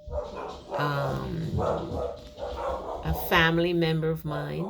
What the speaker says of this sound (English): Those are my dogs in the background.